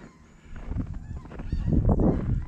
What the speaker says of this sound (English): Flock of goose, geese up in the clouds.